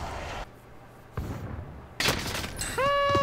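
Sniper rifle shots crack from a rooftop in a Call of Duty: Warzone match. Several loud, abrupt blasts come in quick succession, followed by electronic game tones.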